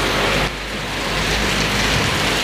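Steady rain pours down around one in the afternoon in Ciamis, a dense, even hiss of falling water that fills the scene without a break, close and fairly loud, with no voices or other sounds rising above it.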